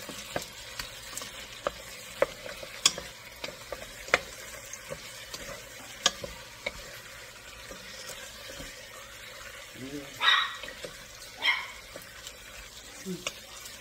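Tomato sauce is stirred into chicken pasta in a pan, producing soft scraping and wet clicking strokes at an irregular rhythm, with a gentle sizzle underneath and a couple of louder scrapes near the end.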